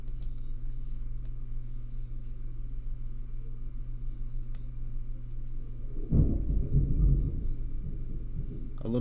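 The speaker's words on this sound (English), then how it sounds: "A little bit of thunder outside." Thunder outside rolls in as a deep, heavy rumble partway through, rising over a steady low indoor hum and lingering for a few seconds before fading.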